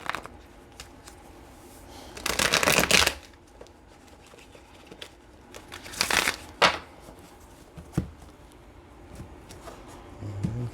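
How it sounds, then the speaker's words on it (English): Tarot deck riffled in two main bursts of papery shuffling, close up, with a few softer card taps and handling sounds between them and no talking. "I am hearing one more shuffle."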